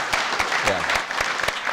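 Applause from a conference audience thanking an event organiser, with sharp individual claps standing out in an uneven rhythm while a voice speaks briefly over it.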